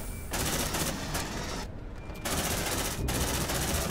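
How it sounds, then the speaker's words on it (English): Rapid automatic fire from a sentry gun in the sci-fi game Aliens: Dark Descent, a dense, loud, continuous burst with a brief dip near the middle before resuming at full intensity, no talking over it. "And we will see how well the sentry gun works."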